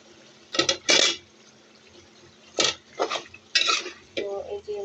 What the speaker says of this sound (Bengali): এই মাছগুলো দিয়ে দিব। এই যে মাছগুলো দিয়ে দিলাম।